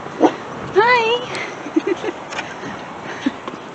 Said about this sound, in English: Funny dogs.